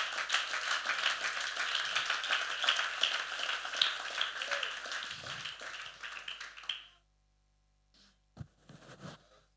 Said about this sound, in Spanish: Dele ese aplauso al Señor Jesucristo, hermano.